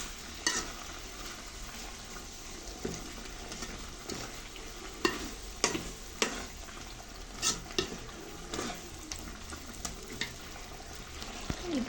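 A drumstick and jackfruit seed curry is stirred in a pan, with a low simmering sizzle under repeated scraping strokes and occasional clinks of the spoon against the pan, close and moderately quiet.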